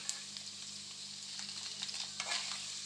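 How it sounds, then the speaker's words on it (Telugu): A handful of urad dal and peanuts frying in a pan gives a soft, continuous sizzle with light crackles and a few stirring scrapes over a steady low hum, and no one speaks. "మినపప్పు కూడా ఫ్రై అవ్వాలి మంచిగా"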